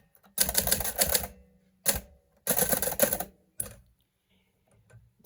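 A 1966–1967 Hermes 3000 manual typewriter mechanism tapped close up, giving dense bursts of rapid clacking in four spurts separated by short pauses, loud and alone.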